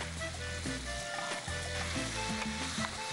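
Soya granules frying in a pan on a television cooking show make a loud, continuous close sizzle, with faint stirring and clinks underneath and no voices.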